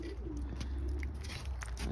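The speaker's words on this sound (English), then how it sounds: "it's my sick bird cage, or I guess some new birds" Racing pigeons in a sick-bird cage give soft, low cooing, faint and steady under a muffled indoor background hum, with a few small clicks and rustles.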